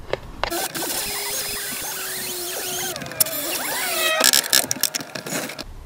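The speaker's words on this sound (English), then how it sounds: "So the drill is the cleanest way to remove a rivet." A drill bores out a rivet holding a panel near a rear door, a steady whine with shifting pitch running for a few seconds before a short burst of sharper metallic clatter and bumps toward the end.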